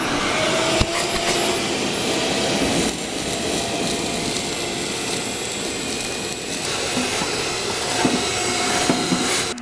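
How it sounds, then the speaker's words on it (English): A shop vac roars steadily at close range while sucking ash out of a grill, a loud continuous whine with brief changes in pitch as the nozzle moves, no talking. "my secret weapon is a shop vac."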